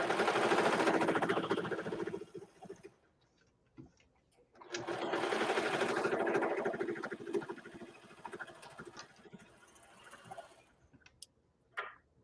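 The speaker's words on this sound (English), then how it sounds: "so I think just sewing this seam" A sewing machine stitches a seam on kids' sweatpants in two fast, buzzing runs of a few seconds each, separated by a quiet pause, followed by scattered faint clicks and handling sounds.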